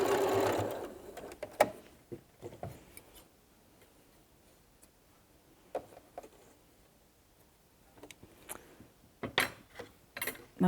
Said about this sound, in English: I'm just going to straight stitch across the top of the pocket